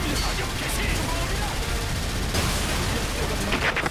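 Continuous heavy gunfire fills the scene in Earth Defense Force 5, a dense, loud barrage of shots and blasts against alien forces, with voices talking over the din.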